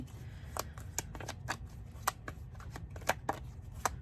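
A deck of oracle cards being shuffled by hand, with soft riffling and repeated light snapping taps at an uneven rhythm, close and quiet with no talking.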